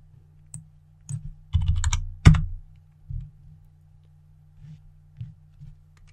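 Keys tapped on a computer keyboard during graphic design work, with scattered light clicks, a brief dense burst of typing and one sharper keystroke, heard close and fairly quiet with no talking.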